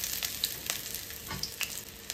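Sliced medium onion frying in oil with a bay leaf, a dense close sizzle with quick stirring scrapes and small clicks, steady throughout with no voices.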